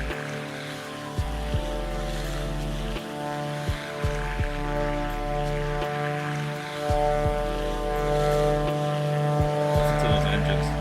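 Steady twin-engine piston drone of a Beechcraft Duke in a flight simulator, a continuous deep hum with layered harmonics, punctuated by occasional soft clicks and a short bump in loudness near the end.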